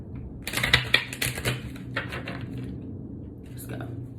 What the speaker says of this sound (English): One more shuffle should do it.